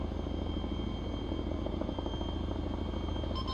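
A Chinook helicopter in the video game ARMA 3 gives off a steady, loud rotor drone and engine hum, continuous and close throughout with no voices.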